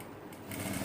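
Sewing machine stitching a fabric binding edge in a quilting project, a steady close mechanical whir that grows louder partway through the brief moment, with no talking.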